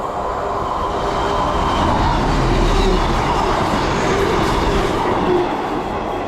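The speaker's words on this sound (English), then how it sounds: "looks like we've got another 158 and 150 passing through" Class 158 and Class 150 diesel multiple units in new livery pass through a station in the West Midlands, a loud, steady rumble of engines and wheels sustained close by for the whole stretch.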